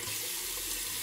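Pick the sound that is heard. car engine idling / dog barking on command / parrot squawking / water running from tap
water running from tap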